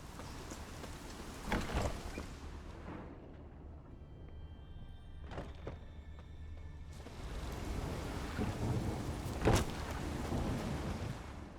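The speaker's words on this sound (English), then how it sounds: "A storm, damn it." Thunderstorm in a Witcher game quest on Undvik, with steady rain hiss throughout and two deep rumbling thunder swells, one early and a louder one late, no talk.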